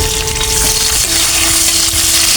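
Garlic and ginger sizzle in hot cooking oil in a wok, a loud continuous frying hiss with steady crackle and a faint tonal hum running underneath.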